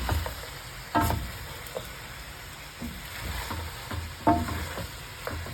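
Ingredients for arroz caldo, including onion, leeks and garlic, sizzle in a pan with light stirring clatter, a soft continuous fry punctuated by a few sharper scrapes and taps.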